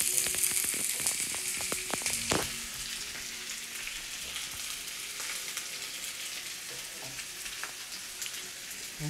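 Onion sautéing in a pan for a vegan broccoli cheddar soup, giving a steady bright sizzle with a few scrapes and taps of the stirring spoon near the start, close and continuous without speech.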